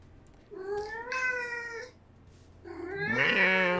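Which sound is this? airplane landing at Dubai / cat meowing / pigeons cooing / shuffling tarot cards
cat meowing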